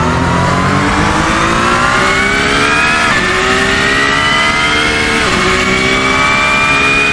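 Ferrari 499P Le Mans hypercar in the Assetto Corsa racing game, engine screaming loud and continuous with rising gear pulls and quick downshift dips, heard alone without talk.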